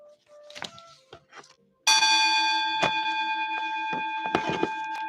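A bell rings out loudly after a few seconds of quiet talk, its sustained, overtone-rich tone holding steady to the end while a voice continues faintly beneath it.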